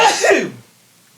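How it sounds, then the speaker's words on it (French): A man gives a single sharp, loud sneeze that dies away within about half a second into quiet. "je vais éternuer"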